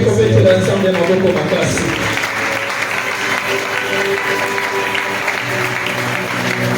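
A congregation at a Sunday thanksgiving church service breaks into loud, sustained applause, following a voice and tonal sounds at the start.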